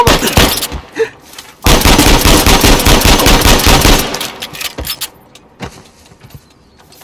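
Gunfire in Uncharted 4, with a loud, sustained burst of rapid automatic shots for over two seconds after a few scattered shots, then sparse single cracks fading out.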